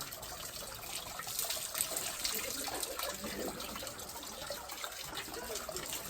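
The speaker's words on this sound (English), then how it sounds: "you have to wash your hands" Water running and splashing steadily at a shrine's purification basin as hands are rinsed before entering, a continuous close trickle with no talk.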